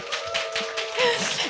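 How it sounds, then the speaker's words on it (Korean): A brief burst of audience applause fills a hall at a spring suicide-prevention talk event in Seoul. A host's voice carries over the clapping. "박수 한번 쳐주세요."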